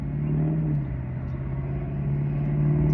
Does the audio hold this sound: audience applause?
no